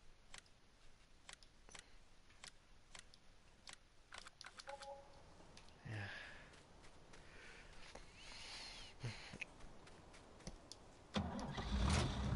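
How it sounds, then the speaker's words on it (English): A tractor engine cranks and catches in Farming Simulator 19, building to a louder mechanical roar near the end after a stretch of quiet clicks and low rumble. "You're currently the only tractor that's open,"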